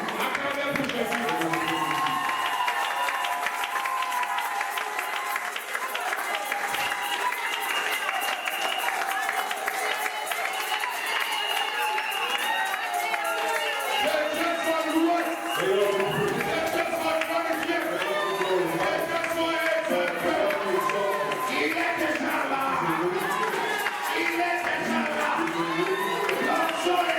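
A church congregation applauding and cheering for Jesus in a loud, steady wash of clapping and shouting that goes on without a break, with voices rising from the crowd.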